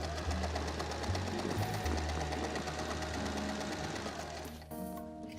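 A sewing machine stitches upholstery fabric in a steady, rapid mechanical chatter that stays loud and continuous, then changes pace near the end as it slows and gives a few whirring and clunking sounds.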